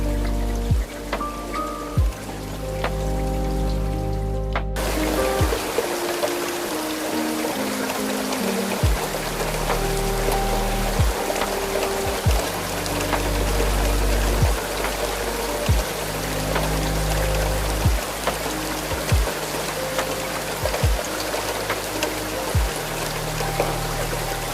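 Heavy rain drums steadily on the glass of a night train's window in the Scottish Highlands, a dense, even patter over a low, shifting rumble that carries on without pause.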